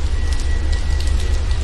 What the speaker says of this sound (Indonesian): Oh, hujan pula.